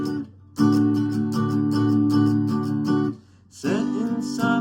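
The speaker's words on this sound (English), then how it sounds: "but strumming it in chord fashion, it would sound something like this" Guitar chords are strummed in the style of a song's intro, rhythmic downstrokes ringing close and clear, with a short pause before a final burst of strums.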